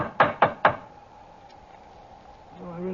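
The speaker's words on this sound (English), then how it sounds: "Let's try the knocker." Three sharp, evenly spaced knocks from a door knocker striking a door, loud and close, followed by quiet room tone and the start of someone speaking.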